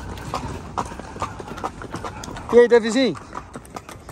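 A mare's hooves clip-clop steadily on the ground during a horse cavalcade, close and fairly loud, with someone talking over the hoofbeats.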